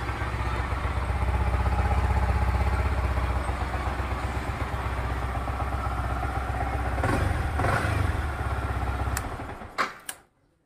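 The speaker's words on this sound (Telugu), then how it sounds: "ఫ్రెండ్స్ ఇంజిన్ కండిషన్ కూడా చూసారు కదా, బీటింగ్ కూడా సూపర్గా ఉంది." A Yamaha R15 v3 motorcycle engine runs steadily at idle for about nine seconds with an even, clattery beat, close and loud, before it is shut off and goes quiet.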